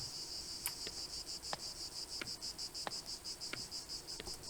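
Cicadas buzz in a steady, loud summer drone outside a room, pulsing in a quick regular rhythm with short sharp clicks recurring every half second or so, alone with no talking.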